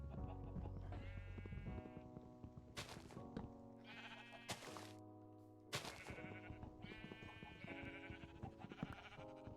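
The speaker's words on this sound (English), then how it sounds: "There's 2 sheep here, so" Sheep bleating in Minecraft (Feed the Beast Revolution modpack), several short repeated bleats from more than one sheep over a steady game backdrop, fairly clear and close.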